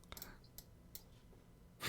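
A loud mechanical keyboard gives a handful of sparse, faint key clicks spaced apart, ending in a slightly louder clatter.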